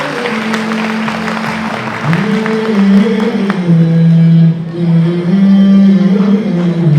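An audience claps at a Quran and Hadith award ceremony as a teacher is invited onstage. The applause is loud and continuous, with a steady droning tone underneath.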